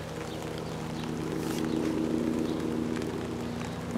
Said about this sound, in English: I hear a helicopter coming over.